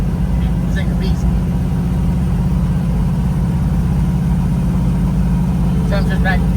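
A 572 big block Camaro engine runs at a steady, heavy idle close by, a loud continuous low rumble, with brief voices heard faintly over it.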